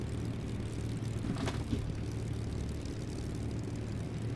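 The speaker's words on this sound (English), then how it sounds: "just zooming in the Mustang and doing landings like that" Steady propeller engine drone of a P-51 Mustang coming in to land in a flight simulator game, a constant moderate hum with a brief whooshing swell partway through and no speech.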